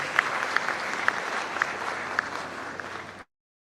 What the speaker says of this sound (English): Please, a round of applause for Solomon once again.